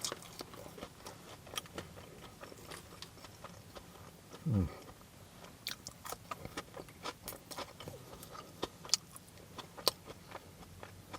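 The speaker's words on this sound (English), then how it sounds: "Let's go in for a bite." Chips from fish and chips are bitten and chewed close to the microphone, with repeated soft crunches and mouth sounds in an irregular rhythm, plus a brief low murmur of voice.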